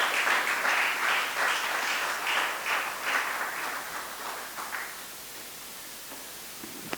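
Church congregation applauding in praise, a broad crackling wash of clapping that holds strong for several seconds and then thins and fades to quiet near the end.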